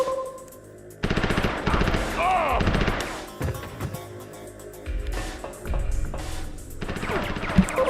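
Rapid automatic gunfire in the video game Mortal Kombat Special Forces, loud bursts of machine-gun fire repeating through the stretch with brief pauses between volleys.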